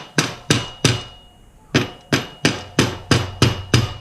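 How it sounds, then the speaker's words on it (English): A mallet strikes sharply about ten times, pressing a bearing into a BMX bottom bracket. The blows are close and loud, with a short pause after the first three before a steadier run of knocks. "you place your bearing in, hold it so it doesn't fall out, and hammer it in with your mallet"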